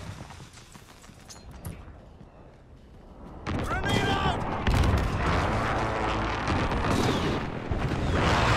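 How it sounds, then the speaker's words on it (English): A precision airstrike pounds the Hackney Yard map in Call of Duty Modern Warfare: sparse gunfire and clatter at first, then loud, sustained rumbling explosions close by that continue to the end. "Enemy precision airstrike inbound."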